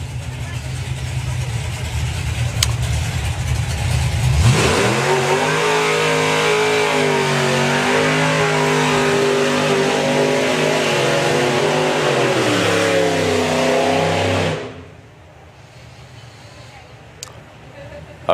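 A supercharged outlaw drag racing car launches and accelerates hard down the strip, its engine roaring loud and steady for about ten seconds before cutting off abruptly, with a commentator talking over it.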